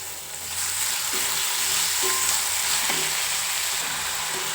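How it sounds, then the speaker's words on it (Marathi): Onion and tomatoes fry in a pan with a loud, steady sizzle, close up, marked by a few soft knocks of a spoon stirring through the mix. "कांदा परतत आलेला आहे तर मग आपण त्यामध्ये टॉमॅटो टाकून घेऊ"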